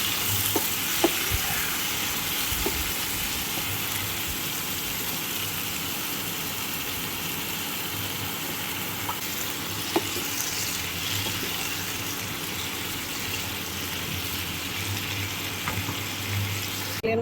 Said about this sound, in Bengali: এবার একটু সুন্দর করে সবজিটা ভেজে নেব